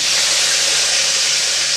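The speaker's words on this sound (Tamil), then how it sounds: "இப்போ எண்ணெய் நல்லா சூடாயிடுச்சு இதில் அரை டீஸ்பூன் அளவுக்கு கடுகு சேர்த்துடலாம் கடுகு நல்லா பொரியட்டும்" Mustard seeds splutter in hot oil, a loud, steady sizzling hiss with fine crackle that holds constant before cutting off abruptly at the end.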